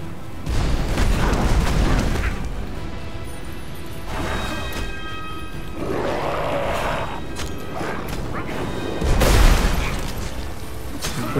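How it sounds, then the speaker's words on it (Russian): Explosions in the video game Magicka: repeated heavy booms and crashing blasts, with a loud burst near the end over busy game effects, no talk. "как они классно взрываются все-таки"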